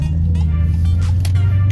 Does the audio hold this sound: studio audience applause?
no